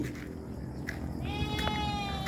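Goats bleat close by on a rural provincial farm, one drawn-out wavering call rising over a steady background of outdoor noise.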